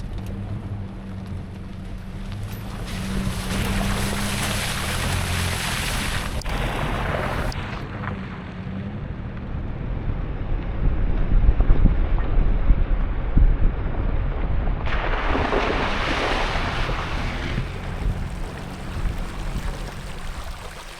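A 4x4 driving through Onion Creek on a dirt trail in Utah, a long rushing wash of water and engine rumble with heavy wind buffeting on the microphone, two louder surges of spray, no talk.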